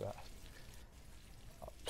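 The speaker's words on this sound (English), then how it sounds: "She's frying the steak and the mac and cheese." Steak and mac and cheese frying in a large amount of oil, a steady broadband sizzle running throughout with brief louder bursts near the end.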